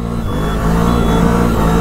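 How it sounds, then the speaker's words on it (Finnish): A CFMOTO CFORCE 1000 ATV with a 1000 cc V2 engine revs on ice, a loud, close, throaty engine note that climbs slightly and holds, with rich low harmonics and no speech. "Eli tästä löytyy 1000 kuutioinen V2-moottori."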